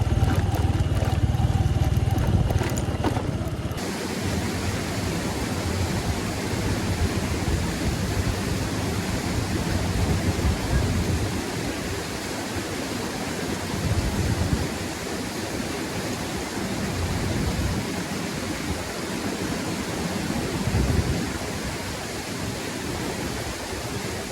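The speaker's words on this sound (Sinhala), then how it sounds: "මේ වතුර සද්ද අපිට කතා කරන මේ පැත්තෙන් එන්න කිව්වා." A mountain stream rushing near the Devil's Staircase trail from Ohiya toward Kalupahana, a loud, constant broadband wash of flowing water close by, steady throughout with no voices.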